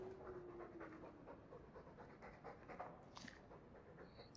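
A dog pants in quick, steady breaths throughout, fairly quiet and close, in the Dragon Age 2 video game, with no talk over it.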